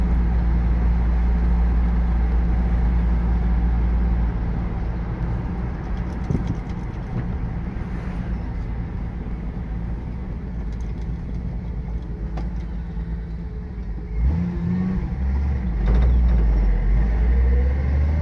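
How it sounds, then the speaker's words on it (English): A 1986 Dodge D100 pickup with an inline-six engine idles smoothly and quietly, a low steady rumble that dips slightly midway and then swells again near the end. "It is an inline six. Such a quiet truck."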